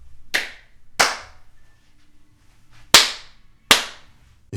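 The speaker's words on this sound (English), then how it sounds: "we're just going to do a clap test" Four sharp single hand claps ring out in a bare room stripped of acoustic foam, irregularly spaced, each followed by a short reverberant tail fading into near silence.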